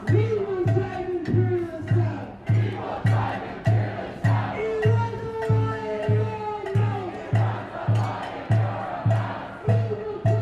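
A protest crowd in Washington DC chanting in a steady rhythmic cadence, repeated shouted phrases rising and falling in regular pulses, loud and close, with voices overlapping throughout.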